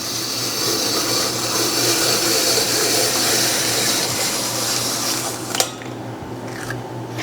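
A hand-crank apple peeler, corer and slicer works through an apple with a steady grinding, scraping whir up close, then stops with a brief clack.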